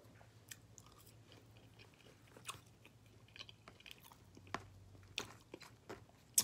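Fries eaten with Flints BBQ sauce, quiet close chewing with scattered soft crunches and bites in an otherwise calm, faint room.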